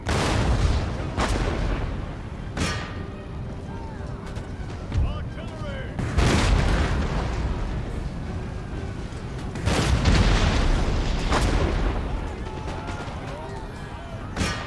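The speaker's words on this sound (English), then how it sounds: "Seems like quite a lot of the canister is actually hitting the ground there before it hits them" Canister shot artillery fires in an Empire: Total War battle, with a series of heavy booms and cracks at irregular intervals over a rumbling battlefield din, while someone talks over it.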